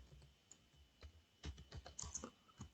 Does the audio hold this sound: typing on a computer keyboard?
yes